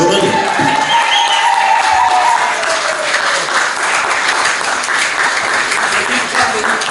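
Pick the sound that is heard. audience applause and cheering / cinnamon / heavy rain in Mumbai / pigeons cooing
audience applause and cheering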